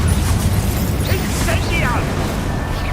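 Confringo explosive spell blast in Hogwarts Legacy, a dense continuous rumbling roar with bursts layered over it, loud and sustained throughout, with voices mixed in.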